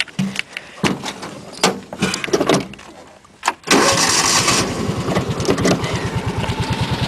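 A tractor engine in a shop: several clunks and knocks come first, then the engine cranks and catches, settling into a loud, close, rumbling idle with a rapid regular pulse.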